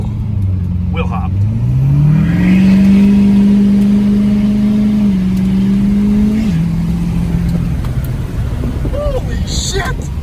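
A 2017 Powerstroke 4x4 diesel truck in four-high launching hard with wheel hop, its engine roaring loud and close, pitch climbing then holding steady before dropping away, with faint voices in the background.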